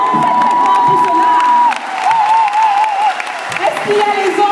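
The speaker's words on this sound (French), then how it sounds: "Applaudissements très très forts pour cela." An audience at a live French stage show breaks into loud, sustained applause with cheering, whoops and a shrill whistle, clapping continuously throughout.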